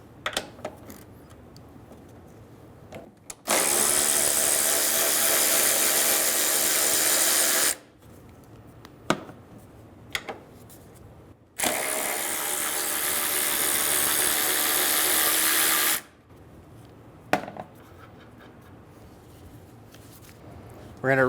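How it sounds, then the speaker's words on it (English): A 14mm socket drives the strut nuts off a 2011-2014 Hyundai Sonata front strut assembly. Two long, loud, whirring bursts of about four seconds each are separated by quieter pauses holding faint clicks and knocks. "Using a 14mm socket, we're going to remove the nuts for the strut."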